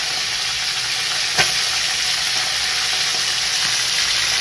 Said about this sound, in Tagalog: Nagtatalsikan na kasi itong mantika.